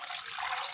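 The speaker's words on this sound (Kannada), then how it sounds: "ತೊಳೆದ ನೀರು ಹಾಕೊಂಡಿದ್ದೀನಿ." Rinse water from the pot is poured into simmering horse gram sambar, a soft brief splashing gush that is faint and close.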